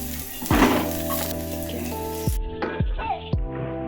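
Onions hitting a hot pan for bharta, a burst of sizzling followed by frying hiss with a few sharp clanks of utensils against the pan, all close, with no talk.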